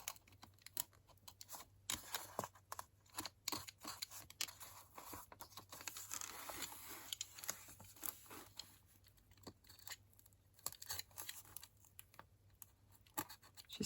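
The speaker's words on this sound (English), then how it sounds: "I can cut the threads so we're not ripping." Scissors snipping binding threads on a handmade journal, a quiet close series of short irregular clicks and scrapes with paper rustling, no talking.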